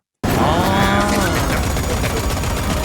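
Gunfire in the video game Warhammer 40K Space Marine 2 on hard difficulty bursts in abruptly and loudly, a dense rapid stream of shots mixed with roaring, continuous game sound.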